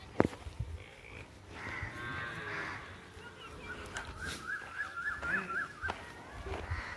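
Buffaloes on a farm low and moo close by at feeding time, their calls rising and falling over a few seconds while faint farmyard background sounds continue.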